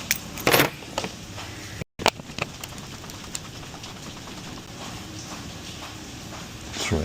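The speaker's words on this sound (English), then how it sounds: "We got some keys right here." A set of keys jangles and clicks as they are fitted into a new metal wallet key holder, close-up metallic rattles in scattered bursts over a soft steady hiss of rain outside.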